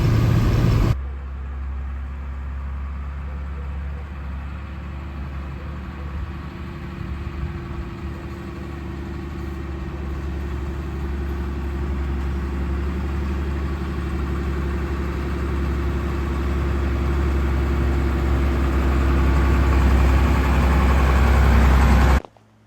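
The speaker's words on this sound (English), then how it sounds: "Driving the F800 home." A 1987 Ford F800 dump truck's diesel engine drones steadily and loud while driving, a deep low rumble with road vibration that holds for about twenty seconds and swells slightly toward the end.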